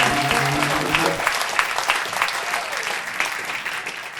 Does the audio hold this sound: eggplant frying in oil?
no